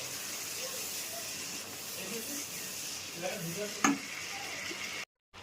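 Masala for a potato and paneer curry fries and gets stirred in a pan, giving a steady sizzling hiss with a brief louder scrape near the end before a sudden cutoff.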